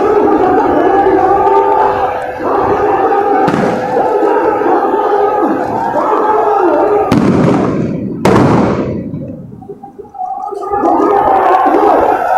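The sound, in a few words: tear gas shells exploding at a protest rally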